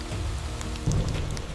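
Rain beginning to fall in the Borneo rainforest canopy, a steady hiss of drops on leaves with a few louder splatters, close and continuous.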